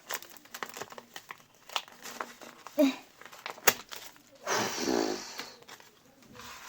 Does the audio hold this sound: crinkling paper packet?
yes